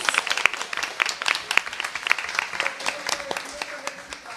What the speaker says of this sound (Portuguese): Aê, salva de palmas!